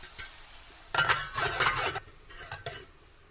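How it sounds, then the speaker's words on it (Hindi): A lid clinks down onto a cooking pot of Sindhi-style bhindi do pyaza, an okra and potato curry, giving a near, metallic clatter of about a second with a softer knock after it. "अब इसको दोबारा हम ढक्कन लगाएंगे 5 मिनट के लिए।"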